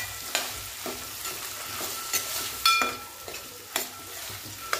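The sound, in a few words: roasting black chickpeas mix in oil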